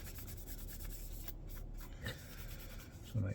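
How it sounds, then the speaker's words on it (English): A cloth with brake cleaner wipes a speedometer part from a Honda GL1000 Goldwing, a quiet, close, rhythmic rubbing with a few soft knocks near the end. "So a bit of brake cleaner, and we'll give this a clean."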